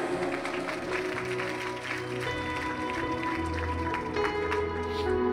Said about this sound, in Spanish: Los ordenados denle aplausos al Señor